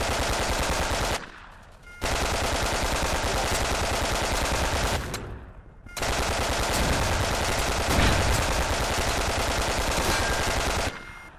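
Machine gun fire in the WWII shooter game Red Orchestra 41-45 on the Mare Nostrum map. Loud, close, sustained automatic bursts rattle almost continuously, broken by two short pauses.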